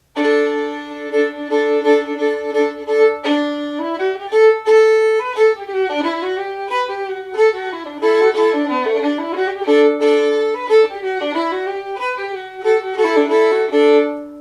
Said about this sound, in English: you have an old-time fiddle tune that sounds like this